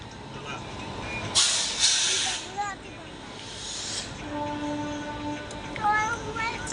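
Another train passes on a nearby track in dense fog while a Howrah–New Delhi Duronto Express waits for a signal, a moderately distant broadband rush swelling and fading with brief whistle-like tones afterward.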